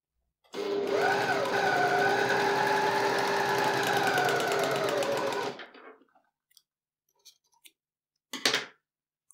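An overlock serger sewing a seam runs in one continuous, close whirring stretch of about five seconds, then stops, followed by a few faint clicks and a short rustle.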